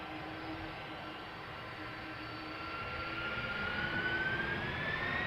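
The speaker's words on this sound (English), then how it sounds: "Delta Airlines, flight 135 to Detroit, doing a turn and burn" A Delta Air Lines jet bound for Detroit starts its takeoff roll, its engines rising from a moderate hum into a louder roar, with a whine that climbs steadily in pitch.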